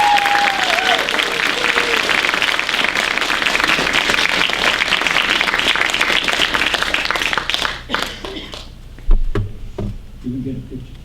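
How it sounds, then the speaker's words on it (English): Applause for seniors at an awards program: a room full of people claps steadily and loudly for several seconds, then the clapping thins out and stops, with a few scattered knocks and faint voices afterward. "So everybody give them a round of applause"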